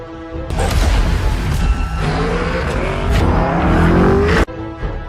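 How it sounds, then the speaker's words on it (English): A powerful twin-turbo V8 Lamborghini SUV engine roars loudly and continuously for several seconds, pitch climbing under hard throttle, then cuts off abruptly near the end. "burbles deeply when idling, and absolutely howls under full throttle"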